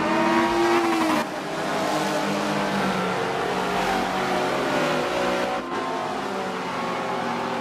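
Race cars lap Monza in Forza 7, a loud, continuous engine roar with rising and falling revs, a brief dip around a gear change or corner, and faint tire noise; close and dense, with no talk.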